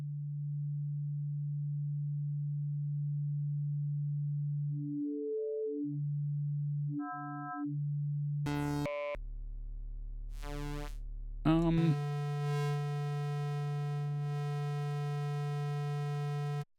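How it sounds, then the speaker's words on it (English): Modular synth oscillators being tuned, steady sine-like tones that hold, stutter and shift pitch, followed by bursts of noisy and buzzy harmonic tones, fairly quiet throughout with no talk. "Actually, I want to tune my oscillators first."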